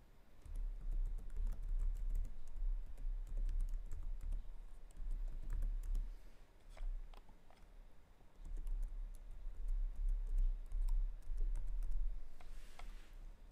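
Someone types on a computer keyboard nearby, with quiet, steady clicking in short runs and pauses. A low hum sits under it and no voice is heard.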